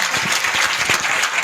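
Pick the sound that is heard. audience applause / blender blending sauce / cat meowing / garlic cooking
audience applause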